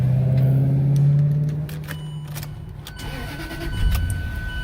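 A 2005–2009 Range Rover Sport engine cranks and catches, a loud low hum in the first second or so that then settles into a steady idle, heard close with a faint jangle of keys.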